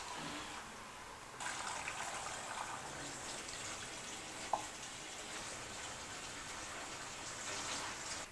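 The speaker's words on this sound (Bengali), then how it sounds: "আমরা এখন এটাতে পানি দিয়ে দিব" Water is poured into a pot of spiced whole mutton leg. A soft, steady gushing stream starts after a quiet moment and runs on evenly at low volume.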